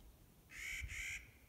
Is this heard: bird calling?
yes